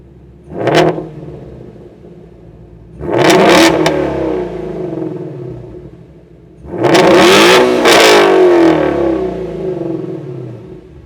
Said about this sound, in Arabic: وصراحه السياره صوتها طرب. خلينا نسمعكم صوتها